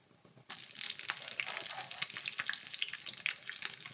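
Dried red chillies, split green chillies, curry leaves and cumin sizzle in hot oil for temple-style pulihora, bursting into a steady, close crackle after a quiet start, with no talking.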